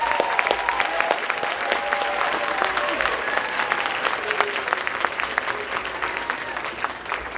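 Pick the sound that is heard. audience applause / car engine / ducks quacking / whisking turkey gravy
audience applause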